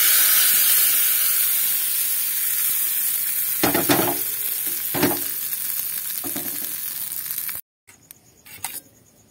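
A hot fried tempering poured into coconut chutney sets off a loud hissing sizzle that slowly fades, broken by a few utensil clinks, before cutting off abruptly.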